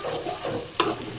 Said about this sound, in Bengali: এখন ভালো করে আগে মশলাটা কষাই নেই